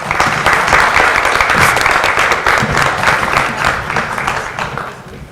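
An audience at a round-table conference applauds loudly and steadily, a dense close clatter of many hands that holds for several seconds before gradually thinning out.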